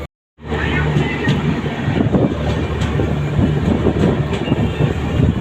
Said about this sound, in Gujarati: અત્યારે હું બેસી ગયો ટ્રેનમાં